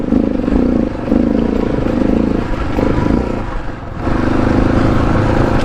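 Engine of a KTM 690 motorcycle ridden along a snowy trail, a loud, steady drone close up with a slight dip and recovery in revs partway through.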